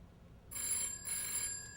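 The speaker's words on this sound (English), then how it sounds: "providing just enough power to repeatedly slap a metal bell in order to produce a ringing sound." A mechanical telephone bell, a metal bell struck repeatedly by an electrically powered clapper, rings in two bright metallic bursts, fairly quiet against a hushed background.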